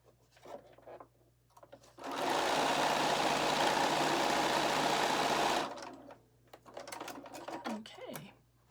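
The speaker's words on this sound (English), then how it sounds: "We're going to stitch this other edge now." A sewing machine stitches a quilt block seam in one steady, continuous burst of fast needle whirring lasting a few seconds, with quiet handling and a brief voice before and after.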